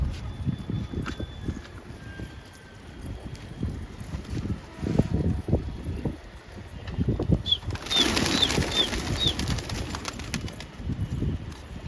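Pigeons flap their wings in a brief flurry of several quick beats toward the end, over soft outdoor wind noise and a few faint bird calls.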